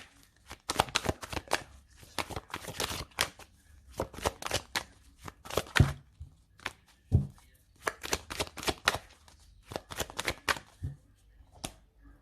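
Tarot cards are shuffled and cut in repeated quick riffling bursts with short pauses between them, crisp and close, with no talking over them.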